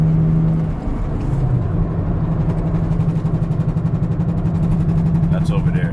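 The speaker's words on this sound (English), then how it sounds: "you gotta listen to this wheel bearing. This wheel bearing's out of pocket." A car with a worn wheel bearing, an Infiniti G35, drones with a steady low hum and faint rhythmic throbbing under road and engine noise while driving.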